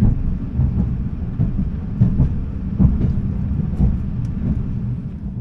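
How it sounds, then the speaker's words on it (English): A high-speed bullet train nears Tashkent railway station in Uzbekistan, a steady loud low rumble with soft rhythmic clatter from the rails and no voices. "we are now approaching the railway station here in Tashkent"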